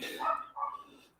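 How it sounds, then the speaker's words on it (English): Dog barking in the background of an indoor whiskey tasting session, two short barks in quick succession at moderate distance. "There's a dog barking in the background."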